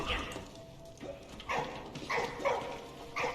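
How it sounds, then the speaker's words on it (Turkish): A dog in the World War I video game Valiant Hearts barking and yipping, several short, fairly close barks spaced about half a second to a second apart over faint background game sound. "Ne havlıyorsun?"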